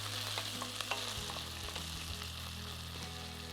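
Onions sauté in a pan with cardamom and other whole spices for pulao, giving a steady close sizzle and crackle, with a low hum underneath and a few light scraping clicks.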